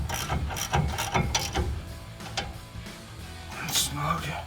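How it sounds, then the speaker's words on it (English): Ratchet clicking in short bursts while tightening brake caliper bolts on a 2006-2018 RAM HD during a brake rotor and pad job, close and fairly loud, with voices talking over the work. "Take the ratchet."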